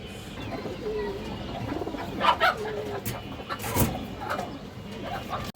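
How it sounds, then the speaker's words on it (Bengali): Pakistani Rampuri highflyer pigeons at a pigeon market giving soft, low cooing calls among other birds, heard faintly under a hubbub of background noise and occasional voices. "আছে পাকিস্তানি রামপুরি বা হাইফ্লার কবুতর"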